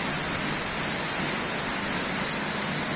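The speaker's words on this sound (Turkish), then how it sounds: "Şu şelaleye bak." A natural waterfall pours in a steady, loud, unbroken roar of rushing water close by, with no voices over it.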